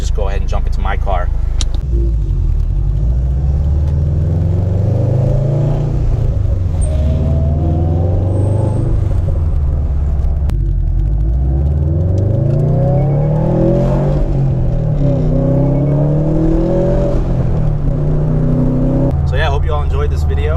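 A car fitted with an aftermarket catback exhaust starts and revs, its engine rising and falling in several strong pulls, loud and close throughout the stretch.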